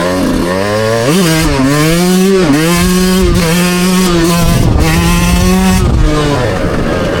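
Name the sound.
Yamaha YZ125X dirt bike accelerating through gears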